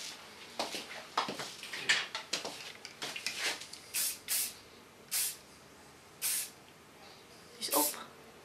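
Several short hissing bursts of hairspray are sprayed onto a short straight bob haircut, a few quick puffs followed by evenly spaced single sprays, heard up close over quiet conversation.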